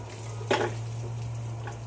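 Almonds dry roasting in a pan over low heat, one short scraping rattle of nuts being moved, set against a steady low hum of the stove.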